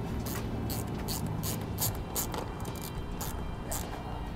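Ratchet wrench tightening a nut onto a stud of an electric-over-hydraulic disc brake actuator, a run of quick, evenly spaced metallic clicks at close range with no talk.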